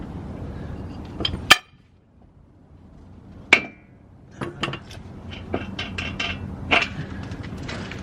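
A steel castle nut, flipped upside down on truck steering parts during installation, is lightly struck with a hammer: a few sharp, separate metallic taps spaced seconds apart, followed by quieter clinks and shop clatter.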